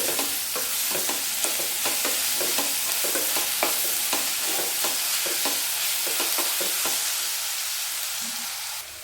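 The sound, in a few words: onion pieces frying with salt and turmeric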